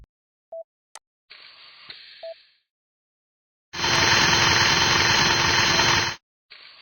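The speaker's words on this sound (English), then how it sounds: "A hole must be drilled inside the femur to set up the distal femoral cutting jig" In a knee surgery video game, a surgical drill bores into the femur, a loud, steady whirring burst lasting a couple of seconds, preceded by short clicks and a quieter mechanical hum, with silence between.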